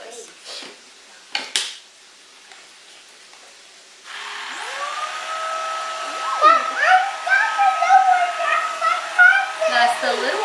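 A Tineco A11 Hero cordless vacuum cleaner switches on partway through with a steady whine that holds for several seconds. Clattering debris and rattles come through over the motor noise as it picks up, with voices heard briefly at the start.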